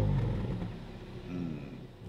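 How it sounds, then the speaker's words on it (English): A Seat Leon Cupra car engine turns over and catches with a deep rumble, then settles into a steady, smooth low idle close by. "Now, if I turn the car on, listen closely to this."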